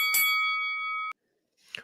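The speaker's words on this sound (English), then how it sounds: "you might as well hit that notification bell" A notification bell sound effect gives one bright ding with a sustained ringing tone that cuts off sharply after about a second, loud and clean on its own.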